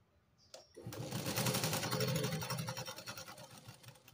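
A sewing machine runs steadily while stitching tucks on the katori panel of a lined blouse, a close, continuous mechanical whir with a rapid needle rhythm, starting after a brief click and going on alone.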